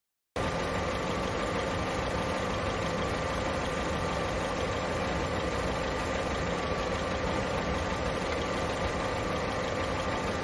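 A vehicle engine starts abruptly and then idles at a steady, unbroken drone for about ten seconds, loud and close, with no voices over it.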